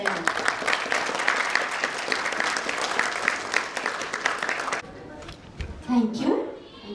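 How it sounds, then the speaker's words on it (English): A crowd at a school annual function gives sustained applause, dense and fairly loud for several seconds before cutting off, followed by a voice speaking over a quieter room. "Can we have a huge round of applause for them?"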